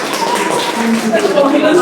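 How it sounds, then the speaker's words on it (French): A language class claps together in a classroom, a short burst of quick, fairly close hand taps with children's voices mixed in. "On applaudit très fort."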